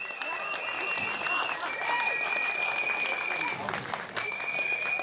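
A rally audience in Mödlareuth claps in a sustained, dense wave of applause that fills the whole stretch at an even, loud level, with a faint high tone running through it.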